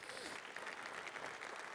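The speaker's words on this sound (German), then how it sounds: "Gib mal dem Herrn einen Applaus." Faint, distant applause from a church congregation during a sermon, steady clapping that holds evenly throughout the short stretch.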